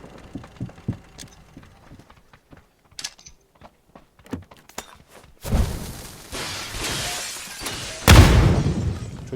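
In PUBG: New State, scattered sharp clicks and taps give way to a loud glassy molotov cocktail shatter with crackling, then a second burst of breaking and fiery hiss.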